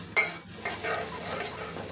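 Onion fries in oil in a wok, giving a close, steady sizzle, with a sharp utensil knock at the start and stirring sounds after.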